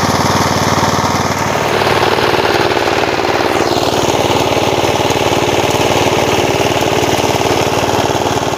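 An engine-driven coffee grinding machine runs with a loud, even, chugging mechanical drone that continues unbroken from start to finish.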